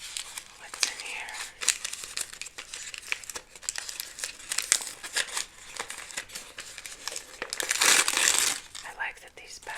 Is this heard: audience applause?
no